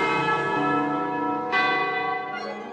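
Church bells ring with rich, sustained metallic tones; a fresh strike lands midway and its resonant hum lingers and fades.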